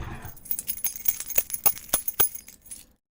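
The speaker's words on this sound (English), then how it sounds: "Do I need the jangly keys again?" A bunch of keys jangled and shaken close by, giving a rapid run of bright metallic clinks and chinks that fade out at the end, with no speech over them.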